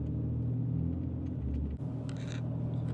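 A Ram Cummins diesel pickup cruises along a road near Fort Myers, giving a steady low engine rumble and road drone. The sound is close and constant, with a brief dip partway through and no talking.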